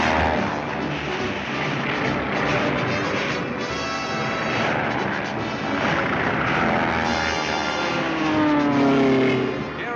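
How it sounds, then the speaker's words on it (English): Pursuit planes in a 1939-1957 Looney Tunes cartoon fly aerial maneuvers, a loud continuous engine roar that swells and drones without a break. "During maneuvers, pursuit planes engage each other in aerial games."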